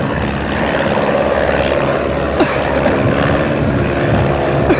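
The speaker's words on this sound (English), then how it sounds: "In the Tiger Moths." Tiger Moth biplanes take off at a 1994 air show at Cranfield, Bedfordshire, their propeller engines droning steadily and loudly throughout, close by, with a faint whine rising over it.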